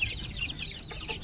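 Seven two-month-old backyard chickens cluck softly and steadily in their cage while feeding, a close, continuous chorus of low, overlapping calls.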